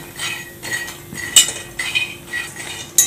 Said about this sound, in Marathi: पण आपण इथे गॅसवर आपण असं भाजून घेऊया शेंगदाणे.